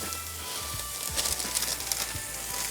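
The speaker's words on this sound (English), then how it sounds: "We're going to go in with a full bag of spinach." A full bag of spinach hits a hot skillet of softened onions and garlic on a Weber kettle grill, giving a steady close sizzle with scattered pops and crackles, no voices.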